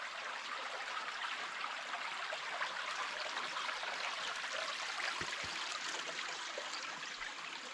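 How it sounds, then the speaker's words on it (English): A mountain creek flows continuously with a soft, even rush of water and a few faint low thumps, heard alone without speech. "this creek is beautiful"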